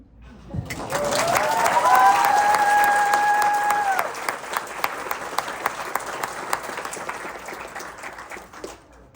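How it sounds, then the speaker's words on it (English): Church audience applause for children who sang, swelling into loud crowd clapping with a few voices, then thinning to scattered individual claps as it fades. "applause to everybody"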